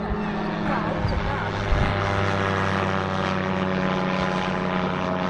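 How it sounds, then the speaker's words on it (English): A small homemade helicopter built from a scooter flies nearby, its engine and rotor droning steadily in a buzzing, throbbing whine that holds for several seconds with a brief louder surge. "It's a man with a helicopter made out of a scooter."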